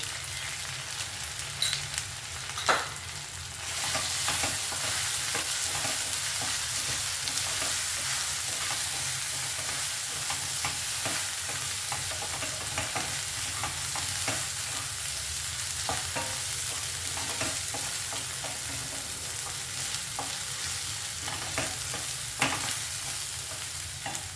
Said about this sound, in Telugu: మనకు ఉల్లిపాయ ఈ విధంగా ఫ్రై అయితే చాలండి